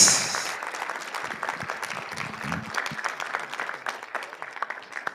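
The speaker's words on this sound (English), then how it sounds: "Let's give him a round of applause." Applause from a lecture audience at a university convocation public lecture, a steady wash of many clapping hands at moderate level that fades slightly over a few seconds.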